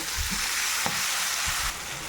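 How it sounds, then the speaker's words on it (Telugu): Telugu dal tempering sizzling in a pan as cooked dal is spooned in, a dense steady hiss with a few low clunks from a spoon, no voices. "సో ఇలా తాలింపు అంతా వేసుకున్న తర్వాత పప్పుని కొద్దిగా తీసి ఇందులో వేసుకోండి తాలింపులో"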